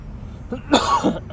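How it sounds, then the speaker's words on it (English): A single short cough, close and abrupt, with a faint throat sound just before it. "out of nowhere I get a cough the second we start this"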